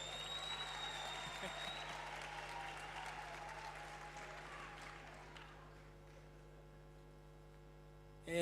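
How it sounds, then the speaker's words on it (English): Audience applause at a district state-of-the-address event, a steady wash of clapping from a large indoor crowd over a constant electrical hum, fading away midway before a brief sound at the very end. "A round of applause, please."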